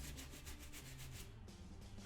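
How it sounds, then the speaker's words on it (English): A brush scrubs saddle soap into cowboy boot leather in quick, rhythmic back-and-forth strokes, close and soft, a steady swishing that briefly eases before resuming. "apply it to your brush there, and you really want to scrub in this"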